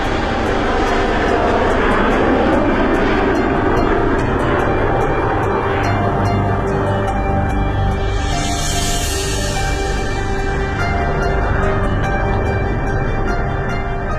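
A Lockheed TriStar airliner powered by Rolls-Royce jet engines in flight, a loud sustained engine roar and whine holding steady throughout with strong tonal hum, no voices.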